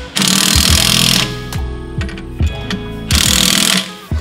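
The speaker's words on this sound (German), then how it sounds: "dass die Muttern über Kreuz gleichmäßig angezogen werden" An impact wrench or power tool tightens nuts on a GIGANT air suspension unit in a workshop, with two loud sustained buzzing bursts separated by clanks and ratcheting knocks.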